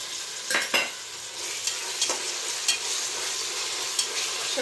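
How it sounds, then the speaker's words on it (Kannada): Ginger garlic paste is stirred into frying onions in a pan, with a steady sizzle under sharp scraping strokes of a spoon against the pan, a few spaced apart, close and with no voices. "ಶುಂಠಿ ಬೆಳ್ಳುಳ್ಳಿ ಪೇಸ್ಟ್ ಚೆನ್ನಾಗಿ ಮಿಕ್ಸ್ ಮಾಡ್ಕೊಂಡ್ಬಿಡೋಣ ಈರುಳ್ಳಿ ಜೊತೆ"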